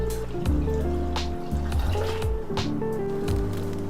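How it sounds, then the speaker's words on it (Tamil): Water, about 800 ml, poured into a hot kadai on the stove, with a continuous splashing fill and a few brief drips and sizzles, close and moderately loud, with no talking. "இதில் ஒரு 800 ml அளவு தண்ணி சேர்த்துக்குவோம்"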